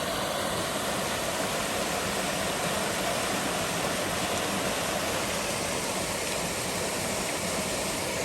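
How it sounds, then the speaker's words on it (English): A small waterfall spills over rocks along a hiking trail near Saluda, North Carolina, giving a constant broadband rush that stays even and unbroken throughout, with no voices. "There's little small falls right here."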